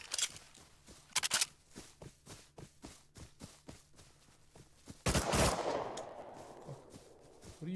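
Gunfire from the survival video game Rust: a string of evenly spaced single shots with louder bursts, then a heavy blast that trails off into rumble, no speech.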